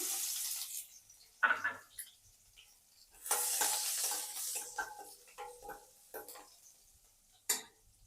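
Green chillies, curry leaves and salt added to hot oil with asafoetida for tempering vaghareli rotli, giving several sharp bursts of close sizzling that flare up and fade between quieter moments.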